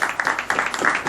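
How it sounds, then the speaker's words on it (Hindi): Audience applauding to welcome and honour new members of the Gita Society at a gathering, a dense steady patter of many hands clapping throughout, fairly close and continuous. "जोरदार तालियां इनके लिए।"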